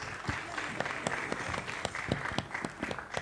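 Audience at a Mimouna evening celebration breaking into applause, a sustained round of clapping with sharp individual claps standing out near the front over the steady crowd.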